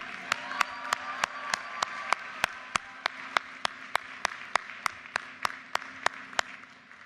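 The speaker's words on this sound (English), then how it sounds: "How about another round of applause for the families?" A commencement crowd at the University of Maryland applauds, with a dense bed of clapping and a loud, steady rhythmic clap repeating close by throughout.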